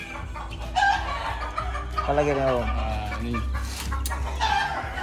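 Fighting-breed chickens at a Bali game farm cluck and crow close by, with a rooster's crow rising over the flock's chatter while people talk alongside.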